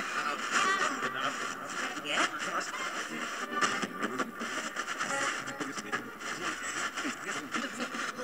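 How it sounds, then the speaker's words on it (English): Spirit box radio static: a choppy, scanning hiss with crackling bursts and fragmentary broadcast sounds, steady and fairly close, with a voice talking over it. "do you just like a straight static radio?"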